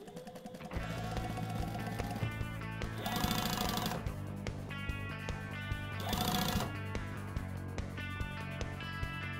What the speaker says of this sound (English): you're sewing all these folds in nice and even